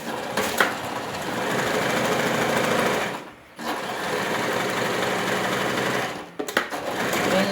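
A sewing machine runs fast and steadily as it stitches a dart in a pencil skirt, whirring loudly and close by, with two short stops between runs.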